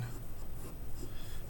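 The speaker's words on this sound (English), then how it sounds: "use this template to trace your letter on your paper" A pencil tracing a letter template on paper gives a steady, close scratching of graphite that runs unbroken and fairly quiet for about a second and a half, with no voices.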